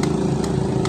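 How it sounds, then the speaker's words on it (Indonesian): A Yamaha R15 motorcycle's electric starter cranking as the key is switched on, a steady droning whir with faint periodic clicks, close and continuous for under a second. "kontak, coba starter"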